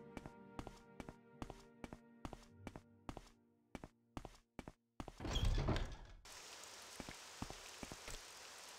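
Rain in the video game Morrowind begins as a steady hiss of falling drops. Before it, a series of sharp rhythmic thuds and a loud rushing burst play, and the rain then continues evenly at moderate volume.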